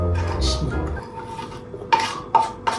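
Chopped onion is stirred into food in a pot, heard as a low scraping rub followed by several sharp metallic clinks of a utensil against the pot, near and fairly loud.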